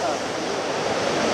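Waterfall water rushing at Ooty, a dense steady roar of falling water heard close and loud throughout, with no pauses.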